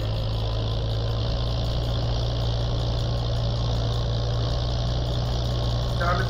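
Swaraj 855 tractor engine in Farming Simulator 22, a steady low droning idle with constant rumble and hum, loud and unbroken across the whole stretch with no change in pace.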